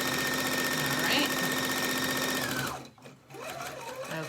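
A sewing machine stitches a fabric face mask with a fast, steady mechanical whir, then stops briefly and restarts with a slower run of stitches.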